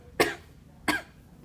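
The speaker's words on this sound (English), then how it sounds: "and coughing." Two close, sharp coughs, each a short harsh burst about two-thirds of a second apart, illustrating a typical asthma symptom.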